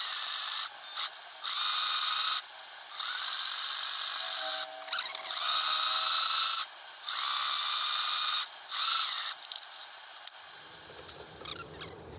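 A sewing machine runs a complicated decorative stitch along the edge of a fabric piece, whirring in a series of short, steady motor bursts with brief pauses between them, close up and without speech.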